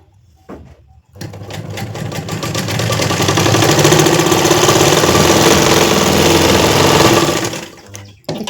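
An electric sewing machine stitches a blouse with its lining, starting after a short pause and running as a steady, fast, close whir for about seven seconds before slowing to a stop.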